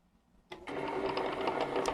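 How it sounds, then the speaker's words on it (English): Bernina 335 sewing machine bobbin winder starting up after a click, then spinning with a steady whirring motor hum, close and fairly quiet. "Your machine has a separate motor for the bobbin winder."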